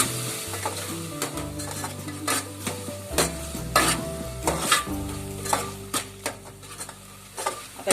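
Pulao masala with dried mint sizzles in a pan while a spoon scrapes and stirs, producing repeated clinks and scuffs over a continuous close frying hiss.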